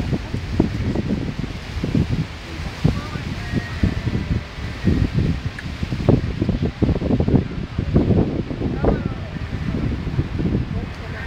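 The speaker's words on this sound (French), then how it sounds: "Il y a du vent." Gusty wind buffets the microphone outdoors under the Paris sky, a loud, continuous low rumble with rustling surges, while a person speaks in French over it.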